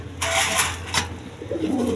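A pair of big red Lahori pigeons coo at a pigeon farm, their soft throaty calls close and fairly loud over a steady low hum, with a brief sharper noise in the middle.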